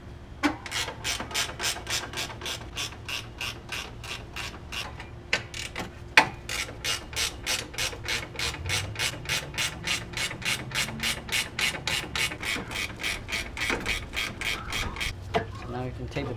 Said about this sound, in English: Take this bracket bolt right here, and then there's another one on this side over here.